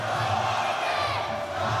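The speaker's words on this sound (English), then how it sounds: "The crowd going wild behind us." Crowd noise from spectators at a Roots Muaythai 14 fight, a steady roar of cheering and chanting filling the whole moment with no break, loud and continuous in the background of the venue.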